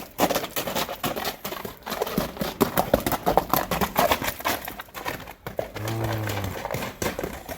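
A horse running with its hooves clip-clopping in a rapid, steady clatter that lasts the whole stretch, fairly close and loud, with faint voices in the background.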